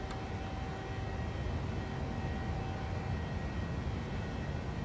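Airliner engines roar steadily at close range during the climb after takeoff in a flight simulator, a broad unbroken rumble with a faint high whine above it and no voices.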